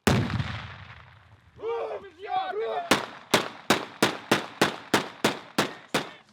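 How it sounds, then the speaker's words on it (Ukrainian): A string of about ten sharp, loud blasts in a steady rhythm, each a sudden broadband crack of training grenades exploding beside a military training course, following some rumbling background noise and muffled shouting. "Обабіч смуги рвуться навчальні гранати."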